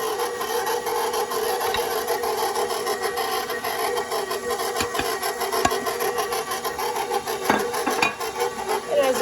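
An electric mixer runs at low speed through brownie batter as flour is added, a steady continuous whirring drone with faint scraping clicks from the bowl, close and unbroken throughout.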